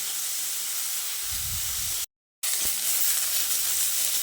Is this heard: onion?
yes